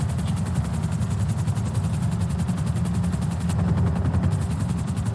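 A police helicopter lifts off in the GTA video game, its rotor beating in a fast, steady chop over a low engine drone, loud and continuous throughout.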